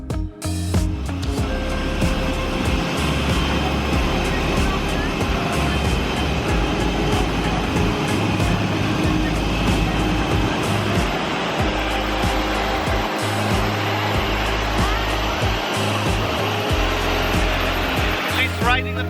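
Loud, continuous jet engine roar and whine fill an airport ramp beside an AirAsia A320, with clanks and rumbles mixed in and low voices faintly underneath.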